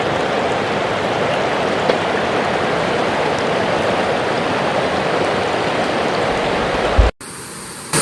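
The Enoree River flows in a steady, broad rushing wash close by, running evenly throughout before cutting off abruptly near the end.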